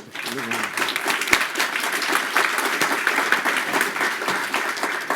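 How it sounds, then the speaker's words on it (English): Sustained applause from a large audience at an annual forum session, dense and steady clapping filling the room, with a voice briefly audible at the start. "Let's give them a big round of applause."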